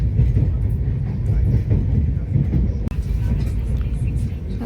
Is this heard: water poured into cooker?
no